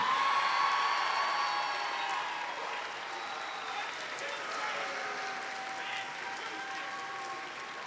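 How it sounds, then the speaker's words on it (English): Audience applause at a winds and indoor percussion winter show: a large crowd claps steadily across the whole stretch, with scattered cheers and faint voices, easing slightly after the first few seconds. "How about one more big round of applause for all these units?"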